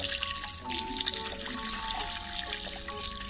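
Tap water runs steadily while a crab is washed under it, producing a close, continuous splashing with bubbly trickling and no talk.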